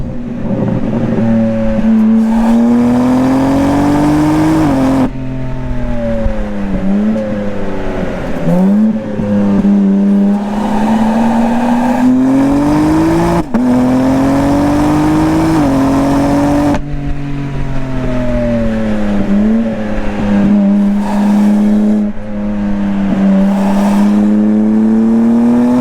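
A 2022 BMW M4 Competition xDrive engine revs and pulls hard through repeated rising surges, with gear changes breaking the climb, loud and close throughout with no talking.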